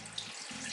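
Broth poured into a pot makes a brief, soft, steady stream of liquid, close and faint.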